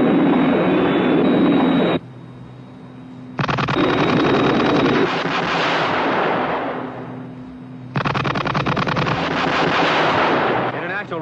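Rapid bursts of gunfire in a Thunderbirds episode come in loud rattling volleys with short quieter gaps between them, and dialogue is heard around the shooting.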